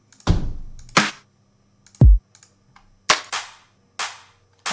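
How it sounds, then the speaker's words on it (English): Fat, punchy clap hits in a reggaeton drum loop, with a deep kick thump around the middle; about five sharp, separate claps spaced roughly a second apart, loud and dry, no voices. "I like that fat clap sound"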